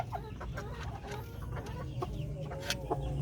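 Chickens cluck at a farmyard, hens and a rooster making repeated short clucks and soft calls at moderate distance, a busy overlapping flock sound over a steady background.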